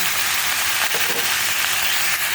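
Pieces of squid hit hot oil in a pan for adobong pusit, giving a dense, continuous sizzle that stays loud and even throughout, with no talking.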